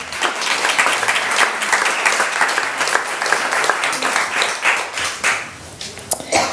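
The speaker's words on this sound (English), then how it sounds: "So big round of applause." Audience clapping at an evening community gathering honouring a long-serving school board member, a dense, steady round of applause that rises and tapers slightly near the end, with no talking over it.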